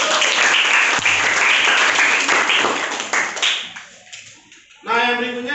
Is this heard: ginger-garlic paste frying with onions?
no